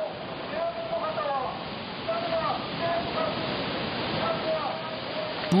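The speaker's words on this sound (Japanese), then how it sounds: "その時、山本町の海岸には大津波が押し寄せていました" A loud, steady roar of the March 11, 2011 tsunami rushing ashore at Yamamoto, Japan, water surging without a break, with faint voices barely audible beneath it.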